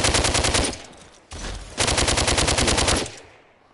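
Rapid automatic gunfire in the VR video game DWVR comes as two loud, fast bursts of evenly spaced shots separated by a brief pause, then fades out with a short echoing tail.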